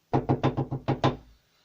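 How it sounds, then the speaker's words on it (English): A knock at a door sounds as six firm, evenly spaced raps in quick succession, close and clear, with no one speaking. "Just then, there was a knock at the door."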